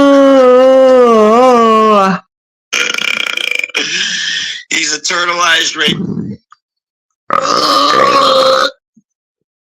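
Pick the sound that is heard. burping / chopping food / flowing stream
burping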